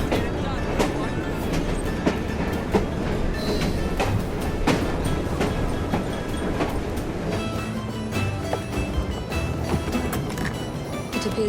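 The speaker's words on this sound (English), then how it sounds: "Oh well, at least we have a train now." A train runs on rails in the Assassin's Creed Syndicate video game, a steady rumble with repeated clickety-clack wheel beats and occasional metallic hits continuing throughout.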